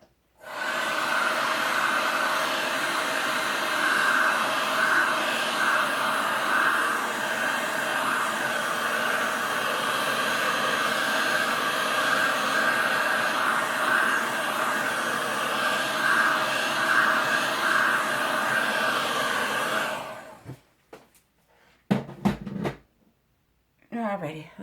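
A heat tool blows steadily over a resin pour on a 12x12 tile, a continuous airy whir for about twenty seconds that then cuts off, leaving a few brief handling knocks.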